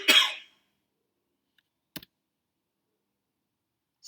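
A single short cough at the very start, close and fairly loud, followed by near silence with a faint click around the middle.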